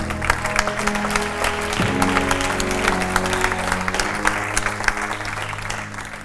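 A church congregation applauds in a loud, continuous patter of many hands, with a sustained musical drone underneath that shifts pitch now and then.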